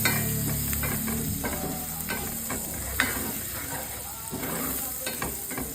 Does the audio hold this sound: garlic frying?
yes